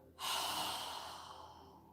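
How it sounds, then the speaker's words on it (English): A single strong exhale through an open mouth during yoga breathing, starting abruptly as a loud rushing breath and fading slowly over about two seconds, heard alone and close. "Try and exhale with a strong breath, releasing all the air in our lungs"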